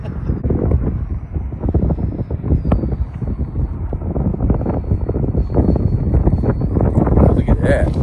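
Strong gusting wind buffets a microphone outdoors while a Freewing SU-35 RC jet flies in high winds, a loud continuous rumble and roar with a faint distant engine whine underneath throughout.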